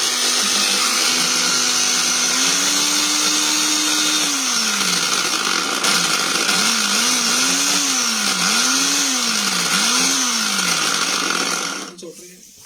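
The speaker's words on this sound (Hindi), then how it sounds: "ब्लेंडर, ओ" A blender motor runs loudly and continuously with a high whine, its pitch sliding up and down repeatedly before it cuts out near the end.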